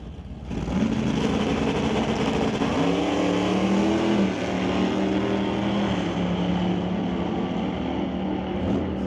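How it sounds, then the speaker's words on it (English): Drag race between a 1968 Dodge Dart with a 440 Mopar engine and a 1967 Plymouth Cuda, loud V8 engines roaring steadily and rising in pitch as the cars accelerate. "Chris Stone in the 68 Dart with the 440 Mopar, sponsored by Stone Cold Racing, going against Jim Banky from Mission, 1967 Plymouth Cuda"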